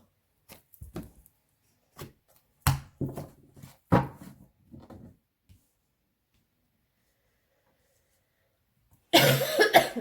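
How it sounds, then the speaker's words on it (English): A series of separate coughs from a sick person, some single and some in quick pairs, with quiet gaps between, followed by a loud, harsh burst near the end. "Sorry about the coughing and the sneezing."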